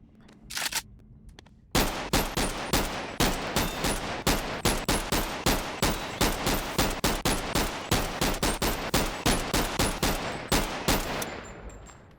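AKM rifle firing in the video game BONELAB, a long run of loud, evenly spaced single shots at a fast steady rhythm after a short pause, followed by a brief mechanical click at the end.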